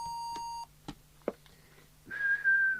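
A person whistles into a Danita 3000 UK PR27/97 mobile CB radio for a whistle test. A steady tone and a few clicks come first, then a clear, rising whistle is held for nearly a second near the end.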